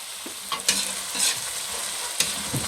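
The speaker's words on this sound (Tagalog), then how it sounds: "Gisa lang natin mabuti ito mga guys." Baby squid adobo sautéing in a hot pan, a steady sizzle and frying crackle broken by a few sharp stirring scrapes and clinks of the utensil, close and fairly loud with no talking.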